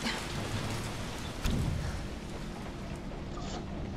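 In the video game Resident Evil 3 Remake, steady rain pours down with a heavy thunderclap rumbling in about a third of the way through, the downpour continuing evenly afterward.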